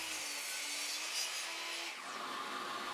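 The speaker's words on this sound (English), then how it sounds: "I took it over to the miter saw where I cut out a few triangles" A miter saw cuts triangles out of plywood, giving a steady, close whining buzz with a faint tonal hum that changes pitch partway through.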